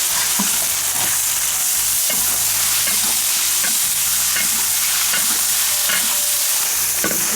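Dried bamboo shoots are stir-fried in a wok, giving a constant loud sizzle with scraping spatula strokes and clatters throughout.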